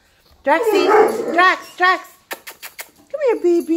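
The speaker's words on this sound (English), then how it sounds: "that's my dog attacking the glass door because there's probably a cat out there" A dog barks and yips while attacking a glass door, with sharp rapid taps as it strikes the glass; a person speaks over the noise, close and loud.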